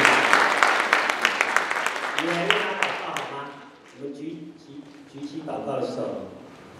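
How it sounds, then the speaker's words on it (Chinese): A church congregation claps together in a dense burst of applause that fades within a few seconds, then someone talks over the quieter room. "我们再次的拍手，也谢谢他"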